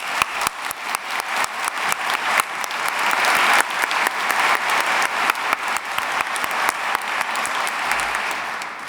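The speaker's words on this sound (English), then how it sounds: "Can we please also give another round of applause for all the people who have shared talents and prayers and thoughts and life missions with us tonight." A large audience at a baccalaureate ceremony applauds continuously, crisp overlapping claps sustained at an even level from start to finish with no talk.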